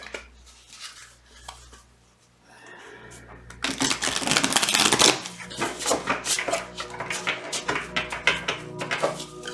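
Crisp riffling and flapping of cards being shuffled close by, a burst of rapid shuffling followed by repeated softer shuffles over faint background music.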